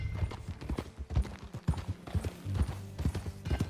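Horse hooves clip-clop in a brisk, rhythmic gait while riding at Beecher's Hope in the video game Red Dead Redemption 2, close and clear with steady repeated thuds.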